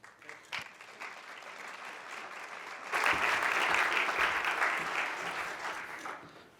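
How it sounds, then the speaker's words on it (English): A church congregation claps for a guest coming up to speak during a morning service, building from scattered claps into full, dense applause that swells and then slowly fades. "we'll see if that clap is deserved at the end of this time"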